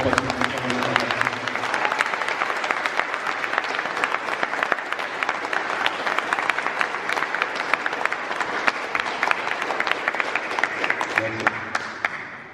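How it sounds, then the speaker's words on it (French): A crowd at a regional choir concert gives a long, vigorous round of applause, thick and continuous clapping that holds strong for several seconds before thinning out at the end. "que je vous demande d'applaudir très très fort"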